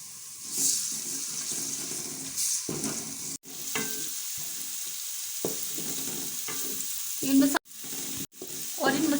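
Whole cumin, cloves, black cardamom and cinnamon with ginger garlic paste sizzle steadily in hot oil for a dhaba-style moong dal, with stirring scrapes and brief clinks and no talking.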